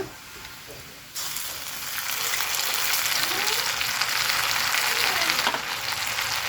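Cumin paste hits hot oil in a pan for a village-style catla fish curry, the sizzle jumping up suddenly and holding a loud, steady crackle.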